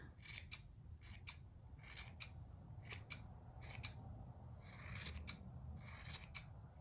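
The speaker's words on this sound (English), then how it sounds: "Fluff it up and just start trimming away." Sharp scissors snip repeatedly through a fluffy yarn pom-pom for a hat, a close, crisp series of uneven cutting strokes with soft rasping between them.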